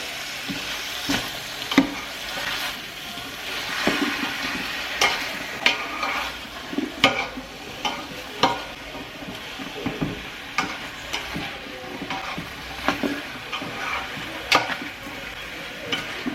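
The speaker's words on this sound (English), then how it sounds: "now let's add our chicken in with our sausage. Now we're going to cook both of these together until they are brown." Chicken and sausage brown in a pot for jambalaya soup, a steady sizzle of frying with repeated scraping clinks of a spoon stirring against the pot, close and fairly quiet with no talking.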